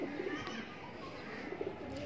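Cooing of a female Kasuri cross pigeon, a few soft low coos repeating at a moderate distance over a steady background hiss.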